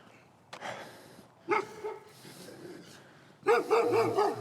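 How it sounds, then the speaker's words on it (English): A big dog barks from behind a fence in short separated bursts, several loud woofs with pauses between, close by and without talk. "Oh, that's a good dog."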